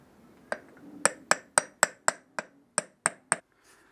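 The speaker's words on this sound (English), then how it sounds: "Grab my hammer." A hammer taps a socket down onto an axle seal on a classic Mini, about ten sharp metallic strikes in a steady rhythm, close and clear with no talk.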